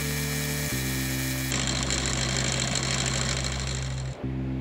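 A milling machine spindle hums loudly and then rises into a harsher, gritty cutting tone as it machines the perimeter of a rectangular metal bluing tray, easing back briefly near the end, close with no talk.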